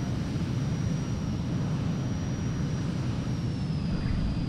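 Jet fighter engine roar during an aircraft carrier landing in the video game Ace Combat 4, a steady loud broadband drone with a thin high whine held throughout.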